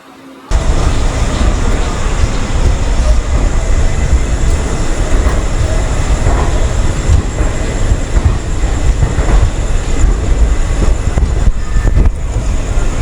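A passenger train departs Shalimar station, heard from inside a sleeper coach. A loud, steady rumble with rail clatter kicks in abruptly after a brief quiet start and continues unbroken.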